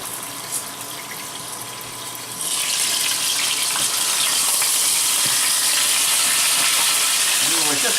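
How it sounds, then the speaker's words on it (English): Pork chops browning in hot oil in a pan: a quiet hiss for the first two seconds swells into loud, continuous sizzling and spattering that holds steady to the end. "And we're just browning it."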